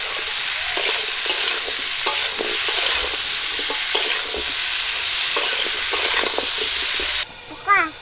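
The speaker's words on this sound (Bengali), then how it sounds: "লবণ হলুদ দিয়ে ভালো করে ফুলকপি আর আলুগুলোকে ভাজা করে নেব।" Cauliflower and potatoes fry with salt and turmeric, crackling steadily under brisk, repeated stirring and scraping in the pan, with a brief high voice near the end.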